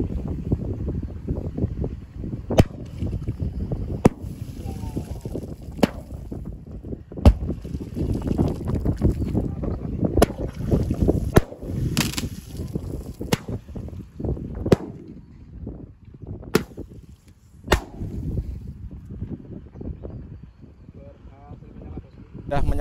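A five-shot Roman candle firework lit over water goes off as a string of sharp cracking pops at irregular intervals, set against steady wind noise and people talking.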